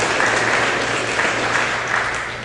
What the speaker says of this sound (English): So let's give them a round of applause for their sponsorship this evening.